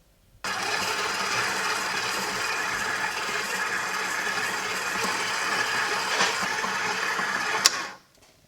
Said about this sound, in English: Once the dough is moist, we'll knead it for 5 minutes on level 2